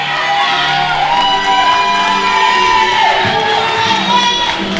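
A large crowd at a Carver STEAM Magnet Elementary kindergarten graduation cheers and whoops loudly, with children's shouts and sustained voices over clapping, a dense, continuous roar.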